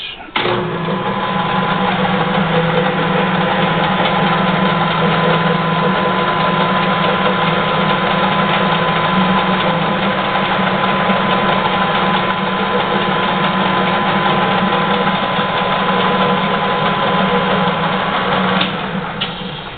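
An ENCO 13 x 40 bench lathe, model 44988, runs forward and then in reverse, giving a steady, close motor hum with a faint whine that holds for nearly twenty seconds before dipping briefly near the end.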